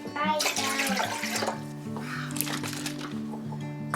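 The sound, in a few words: filtered water being poured into a canning bowl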